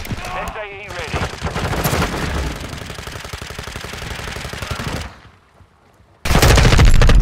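Rapid automatic gunfire in the Modern Warfare II video game, a loud, dense burst of shots lasting several seconds, then a brief lull before another heavy blast of fire, with faint voices mixed in.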